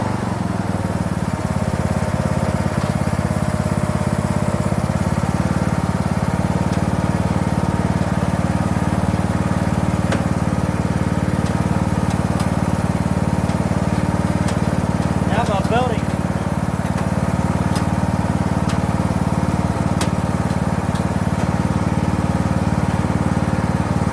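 Mud mower engine idling in neutral on the bottom pulley, a steady loud rattling drone that runs continuously, with a brief whistle-like tone partway through.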